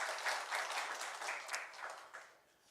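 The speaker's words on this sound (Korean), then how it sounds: "우리 하나님께 영광의 박수 올려드리겠습니다" A church congregation claps together in steady, rapid applause during a Sunday worship service, a dense wash of hands that holds evenly and then tapers off at the end.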